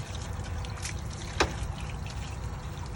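Water trickles steadily while rinsing out a sealed RV holding-tank assembly, a continuous faint dribbling stream with one brief louder splash partway through, no voices.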